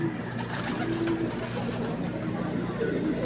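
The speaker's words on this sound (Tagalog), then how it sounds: "Ayan yung mga ibon." Racing pigeons released at Santo Tomas, Batangas, cooing steadily through a continuous outdoor bird chorus, with some faint chatter in the background.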